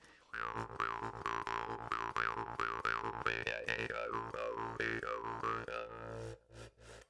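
A twangy, buzzing Milisten jaw harp plays a run of rhythmic plucked notes, its pitch wobbling and sliding, close and fairly quiet.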